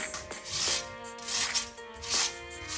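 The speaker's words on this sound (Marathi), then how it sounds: "आता किसणीच्या सहाय्याने मी हा बटाटा याच्यामध्ये किसणार आहे" A potato being grated by hand on a kitchen grater into water for a crisp tea-time potato snack, with three brisk rasping bursts of strokes in a row, close and fairly loud, no talking.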